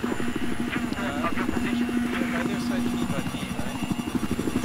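A helicopter in a 64-player Conquest match of the Battlefield 4 video game on the Dawnbreaker map thrums with a rapid rotor beat and a steady engine tone, heard under players talking over voice chat amid battle noise.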